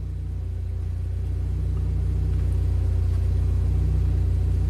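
The rear wheel of a Saab car spins with the car raised, producing a steady low rumble and drone that builds slightly in loudness over a few seconds, with no talking.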